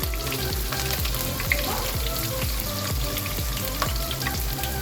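Steady loud sizzling of green chillies frying in hot oil, with occasional stirring clinks, no talking.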